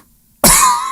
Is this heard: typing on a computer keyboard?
no